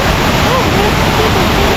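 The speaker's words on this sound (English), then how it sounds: "Yeah, this is another of the cascades." Kuang Si waterfall cascade in Laos, a steady broadband rush of falling water close by, with faint voices murmuring underneath.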